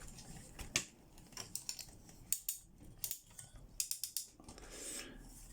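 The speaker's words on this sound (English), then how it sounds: "Bicep swivel, elbow on ratchets." An MFT Legend upsize Omega Supreme toy robot's elbow joint clicks through its ratchets in short bursts of rapid plastic clicks, close and quiet with brief pauses between.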